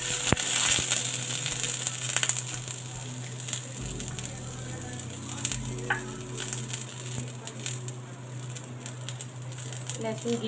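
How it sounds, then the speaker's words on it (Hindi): Wet garlic crackles and sizzles in a pan with roasting peanuts, a steady hiss under scattered pops and light scraping, fairly close with a constant low hum. "लहसुन गीला था, इसीलिए थोड़ा शोर कर रहा है"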